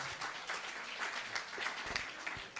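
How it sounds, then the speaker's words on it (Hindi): Audience applause at a kavi sammelan poetry gathering in Kurukshetra, a crowd clapping steadily for a poet, moderately distant and continuous. "प्रेम और करुणा के कवि के लिए आप जोरदार तालियां बजाएं"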